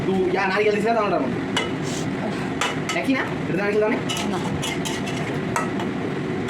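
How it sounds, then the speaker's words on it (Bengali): Taro stolons frying with chili paste and spices in a pan, stirred steadily with a spatula scraping and clinking against the metal over a constant close sizzle, with a few brief sharper knocks. "নেড়ে চেড়ে মশলা সাথে খুব ভালো মতো মিশিয়ে নেব মরিচ বাটা দিয়ে"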